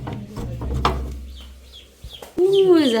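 Chickens and ducklings in a poultry coop: clucking and short calls up close, with a louder drawn-out bird cry near the end, while people talk faintly in the background.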